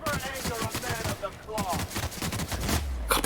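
Bursts of rapid gunfire crackle in a fight in The Outer Worlds video game against a large creature. The volleys are dense and close, with game voices and other sounds mixed in.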